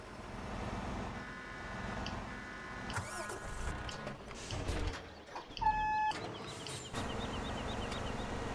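A tractor engine turns over and catches on a farm, a broad mechanical rumble with a short whine and a clunk partway through, fairly steady and moderately loud with no talking.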